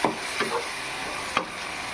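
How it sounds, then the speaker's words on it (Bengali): Spices with Kashmiri chili powder stirred and fried in a pan, a steady soft sizzle broken by a few brief scraping strokes of the spoon, close by and with no talking. "এবার একটু নেড়ে চেড়ে কষিয়ে নেব।"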